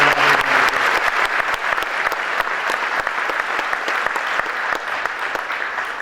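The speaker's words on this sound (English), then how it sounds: "please give her a round of applause" A round of applause at a high school senior awards night, loud and continuous, with a crowd clapping steadily and individual sharp claps standing out through the sound.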